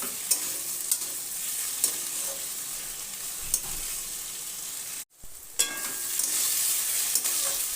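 Shrimp and ash gourd curry is stirred in a frying pan, a soft continuous sizzle with periodic spatula clacks against the pan and a brief pause midway.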